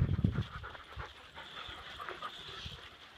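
Several dogs pant close by while sniffing noses, a brief louder burst at the start giving way to steady quick breathing and faint snuffling.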